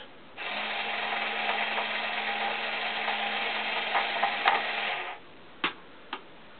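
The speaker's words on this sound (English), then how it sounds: "last time I couldn't move the anchor winch, now I can." A small electric motor drives the anchor winch of a model RC submarine, a steady whirring hum for about five seconds that then cuts off, followed by two faint clicks.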